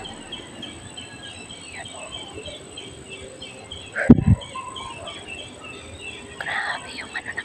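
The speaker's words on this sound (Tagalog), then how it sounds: "Pakinggan nyo yung yung mga ibon mga kaibigan." Wild birds call and chirp outdoors among a rural stand of coconut palms, with a steady insect drone underneath, a brief loud knock midway and someone speaking briefly.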